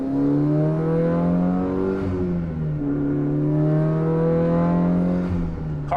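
Mitsubishi Lancer Evolution 8 engine while driving around the block, a steady droning hum with rising and falling pitch as it pulls through the gears, heard alone from inside the car.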